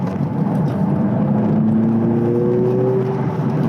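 A car engine revs with a rising whine, loud and close, steady for a few seconds without talk.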